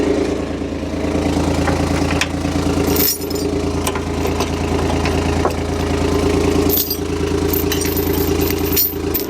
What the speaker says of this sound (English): The diesel on this thing, it sounds good. I like it. Just a little like Yanmar diesel in here.